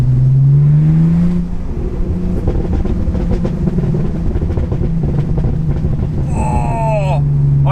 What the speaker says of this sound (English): I'm tapping the throttle there to accentuate those, but it does sound amazing.